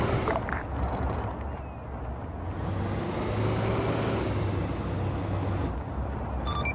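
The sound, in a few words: Jeep engine driving on a road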